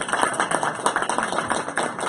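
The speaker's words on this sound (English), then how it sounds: "please join me in a round of applause for her" Dense, steady audience applause fills a short stretch at a press-freedom briefing, many hands clapping together at a fairly even loudness with no voices over it.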